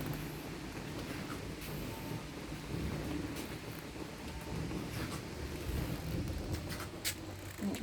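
Steady rain hisses throughout, with deep low rumbling underneath that suggests thunder rolling in the distance.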